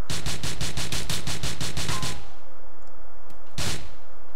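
Machine gun fire in GTA 4, a rapid burst of about a dozen loud close shots lasting two seconds, then a low rumble and one more sharp blast.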